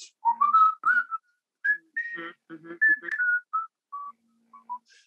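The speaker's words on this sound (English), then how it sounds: "He's whistling the score." A man whistles a short melody in clear, separate phrases, with little pauses between notes and no other sounds around.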